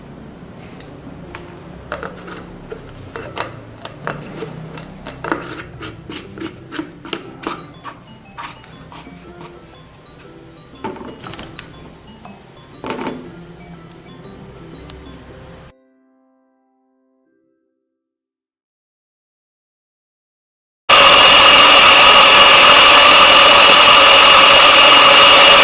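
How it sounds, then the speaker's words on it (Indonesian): Spice paste for Aceh-style white beef curry with coconut milk is ground in a blender. Scattered clattering comes first, then a short silence, then a loud, steady, harsh whir of the running blender. "Yuk kita blender dulu."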